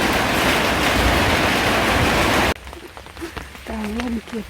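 Heavy rain on a rural Thai farm pours as a loud, dense, continuous hiss for about two and a half seconds, then cuts away to a quieter scene with light dripping and a voice speaking.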